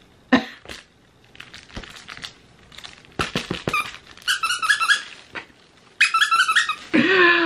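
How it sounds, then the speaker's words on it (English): A squeaky dog toy for a Goldendoodle puppy gives loud, close squeaks in bursts and quick series, between clicks and bumps, with nobody speaking. "Wait, this one squeaks too?"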